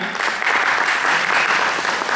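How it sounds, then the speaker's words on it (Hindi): Loud, dense applause from a large crowd at a Holi celebration gathering, filling the whole stretch steadily and evenly with no talk over it. "उसके बाद अपने सारे IHA के कार्यकर्ता और ICC के कार्यकर्ता सभी के लिए जोरदार तालियां।"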